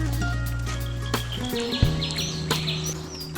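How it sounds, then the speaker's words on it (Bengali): Faint bird chirps and short calls drift in the distance over a steady low hum, scattered across a quiet outdoor scene. "এখানে আসলে নিরিবিলি পাখির ডাক"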